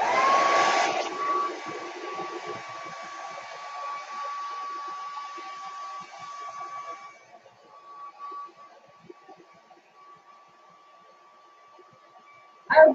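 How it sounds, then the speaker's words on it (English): A blow dryer runs over alcohol ink resin poured on a canvas, a steady close whirring roar that holds for several seconds, then drops away to a faint hum before a brief loud burst at the end. "So I'm going to take my blow dryer, and I'm going to blow dry it really quick."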